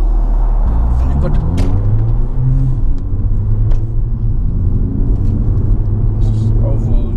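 A Mercedes CLA 45 AMG drives along at steady, normal pace, its engine and road rumble forming a loud, continuous low drone from inside the cabin, with voices talking over it.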